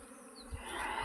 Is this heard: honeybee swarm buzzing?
yes